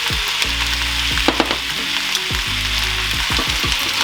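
Vegan yaki udon noodles are stir-fried in a hot pan, with a steady bright sizzle carrying throughout and repeated scraping and clacking strokes of a utensil against the pan, no voices.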